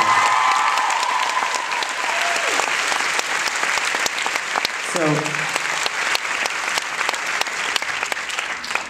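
Loud, sustained applause with some cheering fills a Q&A session audience, steady throughout at close range, with a voice briefly speaking over it.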